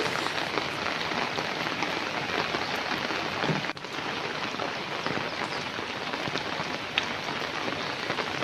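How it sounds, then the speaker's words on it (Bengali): Heavy downpour falling over a waterlogged Kolkata street, a dense, steady roar of rain hitting surfaces with no voices, holding loud and unbroken throughout apart from one brief dip partway. "মুসলধারে বৃষ্টিতে ভাসছে শহর কলকাতা"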